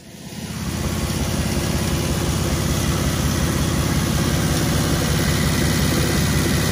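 An Austin 7 engine starts up and settles into a steady, loud, close running note with a fast even low-pitched chug, holding constant throughout with no voices.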